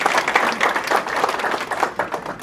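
A hall audience at a city's State of the City address breaks into sustained applause for newly introduced staff, dense overlapping clapping holding steady and fairly loud throughout.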